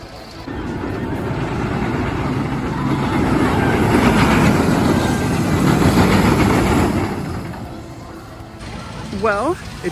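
Ride of Steel roller coaster train at Six Flags Darien Lake rumbles along the track, a loud roaring swell that builds and fades, with people talking and cheering over it.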